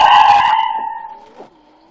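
A car skidding to a stop in a radio drama, one loud tyre screech that fades out over about a second and a half, heard alone.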